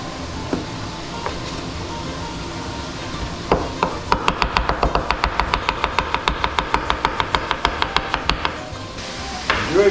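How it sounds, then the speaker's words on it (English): Fast, steady chopping with a very thin-bladed chopping knife on a cutting board, a run of about two dozen crisp, evenly spaced taps after a few scattered knocks. "I have a favorite knife for this. A very thin blade chopping knife."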